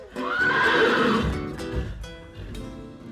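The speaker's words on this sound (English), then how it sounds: "a white horse galloped up the street to the jail, stood a moment at the door, and gave a neigh" A white horse gives a loud, close whinny that rises and wavers for about a second before trailing off, followed by a few softer snorts and shuffles.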